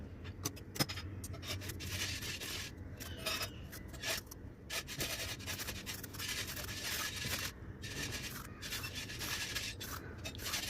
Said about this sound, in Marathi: कोवळे असे दोडके मी घेतलेले आहेत त्याचे वरचे साल अशा प्रकारे काढून घेत आहे